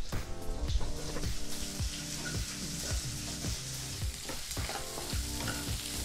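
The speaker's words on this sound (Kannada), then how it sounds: "1 ಈರುಳ್ಳಿನ ಈ ರೀತಿ ಚಿಕ್ಕದಾಗಿ ಕಟ್ ಮಾಡಿ ಬಾಣಲಿಗೆ ಹಾಕಿ ಇದನ್ನು ಸಹ 2-3 ನಿಮಿಷ ಲೋ ಫ್ಲೇಮಲ್ಲೇ ಫ್ರೈ ಮಾಡ್ಕೋಬೇಕು" Finely chopped onion frying on low flame in a pan gives a steady, close sizzle throughout, with regular rhythmic scraping and stirring strokes layered on top and no talk.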